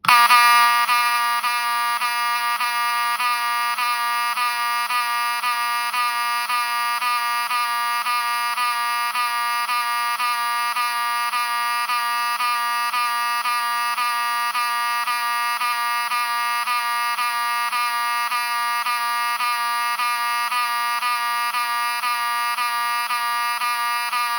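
A Wheelock horn strobe fire alarm under test blares a loud, continuous buzzing horn tone that holds steady throughout, alone with no talking.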